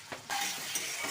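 Fish stirred with turmeric in a frying pan, part of a taro-stolon and fish dish, gives a short burst of soft sizzling and scraping that swells after a brief quiet start.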